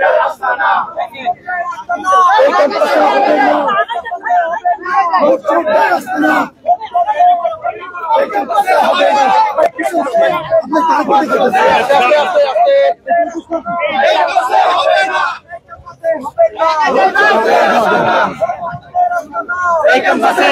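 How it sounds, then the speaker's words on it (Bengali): Student activists marching on a campus, rhythmically chanting the slogan 'vote thief' in Bengali; a loud, close crowd shouting in repeated call-and-response bursts that continue steadily throughout. "ভোটচোর ভোটচোর স্লোগান দিয়ে কিন্তু ছাত্র দলের নেতাকর্মীরা কিন্তু পিএসসি কেন্দ্রটিতে"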